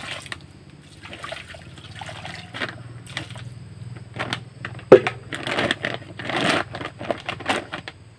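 Water splashes and trickles onto a grape planting medium being prepared for fermentation, in a few uneven bursts that grow stronger toward the end, close by and alone.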